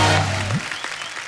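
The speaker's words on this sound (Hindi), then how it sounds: "जोरदार तालियां हो जाए ध्वनि के लिए।" Studio audience applause on a TV comedy talk show, a brief wash of clapping that rises as a voice trails off and then continues alone.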